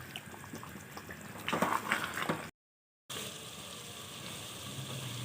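Beef liver masala (kaleji) with salt frying in a pan, a steady broadband sizzle throughout, swelling louder briefly midway before a short gap of silence, then continuing evenly.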